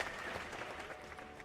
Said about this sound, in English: I got some claps.